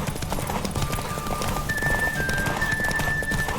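A horse gallops in The Witcher 3, with fast, loud, rhythmic hoofbeats over rushing ground noise and the game's music carrying a thin sustained tone, all close and continuous.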